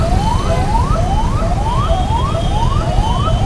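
An ambulance siren sweeps upward again and again, about twice a second, loud over a steady low rumble of heavy traffic in Vadodara.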